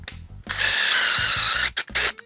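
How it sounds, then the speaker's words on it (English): A drill bores a pocket hole in wood with a loud, steady high whir of about a second. A short second burst follows, and a mechanical hum runs around it. "now we're about to make a pocket hole in our first piece."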